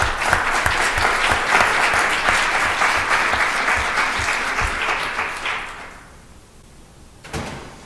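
Loud, sustained applause from a conference audience welcoming Ralph Nader to the stage, dense clapping that fades out after about six seconds, followed by a brief thump.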